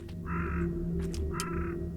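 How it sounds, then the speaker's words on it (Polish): Ravens cawing in the horror video game MADiSON, two bursts of harsh calls rising over a steady low ambient drone, moderately close with a pause between them. "Kruki zaczęło być słychać, a wcześniej chyba ich nie było słychać."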